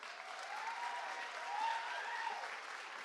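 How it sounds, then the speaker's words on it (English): Audience applause at a Chinese New Year celebration in Whitehorse, Yukon, following a children's performance: steady, dense clapping from a crowd, sustained and even throughout, heard from a moderate distance without speech. "Please give another round of applause."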